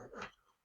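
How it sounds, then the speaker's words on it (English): A dog gives a short, faint whimper in the background, a soft whine that trails off quickly. "that was my dog in the background making some noises"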